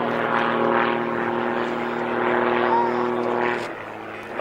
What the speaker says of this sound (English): Left team leaves the arena, pulls up into a display of solo aerobatics.